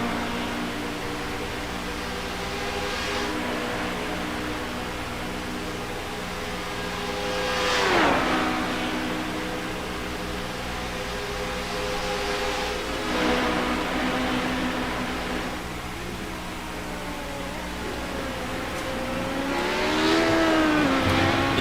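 Race car engines in an iRacing Le Mans endurance race, a steady drone of multiple engines with rising and falling pitch sweeps as cars pass or shift gears, continuous and moderately loud with no talk.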